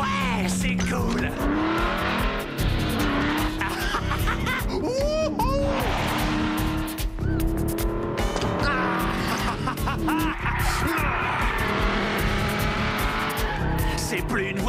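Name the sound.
racing car driving fast with tire squeal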